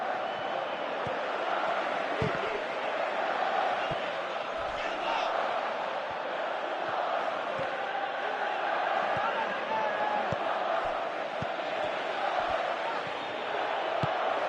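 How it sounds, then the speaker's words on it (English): Virtual stadium crowd in the PES 2018 football video game, a steady roar of cheering and chanting under ongoing match commentary. "you can hear how the crowd are reacting to this too"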